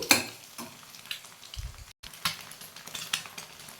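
Eggs frying in oil with garlic and chili powder in a home kitchen pan, giving a light crackling sizzle with scattered pops and stirring clicks, fairly close and moderately loud, with a brief pause partway through and no talking.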